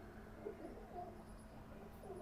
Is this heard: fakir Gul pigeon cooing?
yes